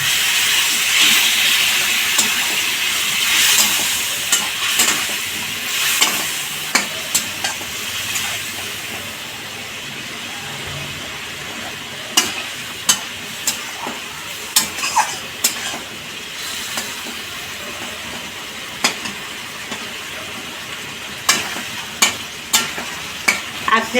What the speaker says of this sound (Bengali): একটু সামান্য জল দিয়ে কষাবো।